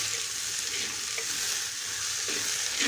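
Chopped flat beans sautéing with onion and tomato in a clay pot, a steady close sizzle with occasional soft scrapes and stirring knocks, no talk.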